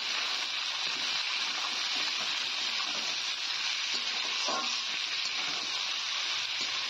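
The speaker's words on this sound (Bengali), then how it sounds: "এবার একটা খুন্তি দিয়ে ভালো করে নেড়ে চেড়ে নেব।" Vegetables including potato and ridge gourd fry in oil while being turned with a spatula, producing a steady hiss of sizzling at moderate level.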